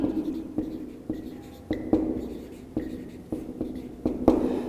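Pen scratching across paper while writing by hand, a steady series of short scratchy strokes close to the mic, with a person speaking softly in Turkish over the writing.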